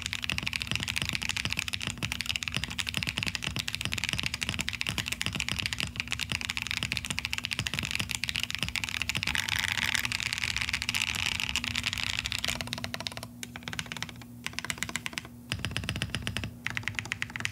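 Rapid, steady typing on a custom Neo80 mechanical keyboard fitted with Moon V2 switches and a gasket mount, dense close-up key clacks running continuously with brief pauses near the end, no voices.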